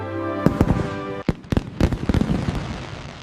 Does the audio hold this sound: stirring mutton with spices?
no